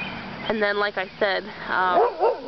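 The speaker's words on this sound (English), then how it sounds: "that's my dog barking at the stupid neighbor's chihuahua" A dog barks at a neighbor's chihuahua in short, close yips and whimpering bow-wows that come in quick bursts, mixed in with a person talking.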